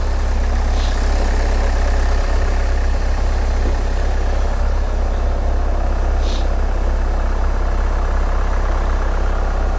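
A Hyundai car engine idles steadily and close up, a constant low rumble with a faint higher whine and no talk.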